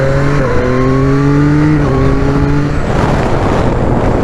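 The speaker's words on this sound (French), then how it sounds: "On va passer la deuxième." A Yamaha MT-09 with the Y-AMT automated gearbox accelerates in second gear. Its loud engine note climbs steadily in pitch, with brief dips at each shift, then gives way to a close, rushing roar.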